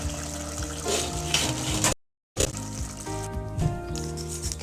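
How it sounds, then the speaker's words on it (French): Boiling water is poured into a pot of chorba frick with lamb, making a continuous gushing, splashing stream that is broken by one short silent gap. "je rajoute l'eau bouillante"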